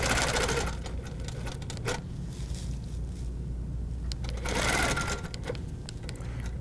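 Sewing machine stitching a hexagon quilt block guided by a ruler, rapid mechanical needle chatter in bursts with brief pauses, close and fairly quiet.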